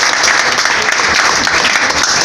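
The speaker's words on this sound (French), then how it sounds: "Applaudissez à Jésus." Congregation clapping steadily through a church service, a dense, loud wash of applause filling the whole moment with no break.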